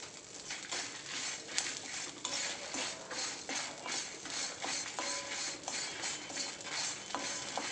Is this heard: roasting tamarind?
yes